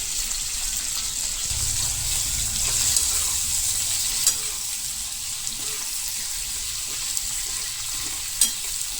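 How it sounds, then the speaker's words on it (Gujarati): Green chillies frying in a pan over a low gas flame, giving a steady close sizzle throughout with occasional faint stirring clicks. "ધીમા ગેસ ઉપર જ આપણે આ મરચાંને પાકવા દેવાના છે."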